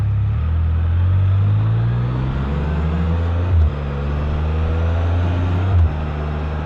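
A car engine idles and rumbles close by on a road, a steady low drone with two brief bumps in level, no talking over it.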